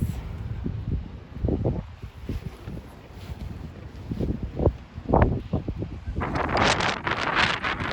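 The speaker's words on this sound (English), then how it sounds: "Oh, that wind's picking up again." Gusty wind sweeps through a rose garden outdoors, buffeting the microphone in uneven rumbling bursts that swell and fade, then build into a louder, rustling gust near the end.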